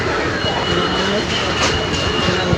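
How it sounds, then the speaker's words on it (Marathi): A train standing at Asangaon railway station fills the platform with a continuous mechanical rumble and hum, with station bustle and people talking mixed in throughout. "आणि या साईडला आपली ट्रेन लागलेलं आहे"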